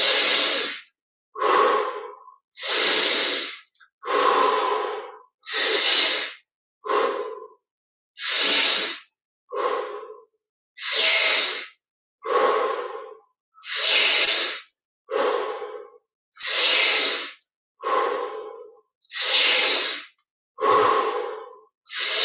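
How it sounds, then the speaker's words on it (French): Slow, deep breaths during guided meditation, about twenty breaths in a regular rhythm, each a loud, close, airy inhale or exhale separated by short silent pauses, with no talk. "on offre ces 20 respirations profondes qui ouvrent la poitrine"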